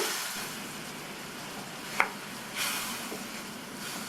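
A constant close hiss of frying sambar masala swells a little as two tablespoons of water go into the pan, with a faint tap of a utensil partway through and no talking.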